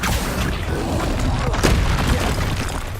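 A Confringo spell explosion in the video game Hogwarts Legacy, a loud booming blast over a dense, continuous rumble of game action with a sharper burst near the middle.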